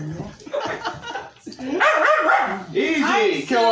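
A dog barks and yips close by in a busy home workout setting, its calls tangled with people talking and laughing over it through the whole stretch.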